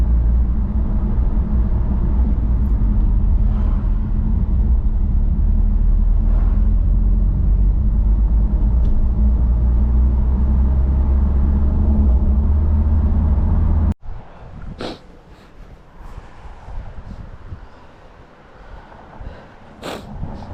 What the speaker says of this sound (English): It's definitely blowy.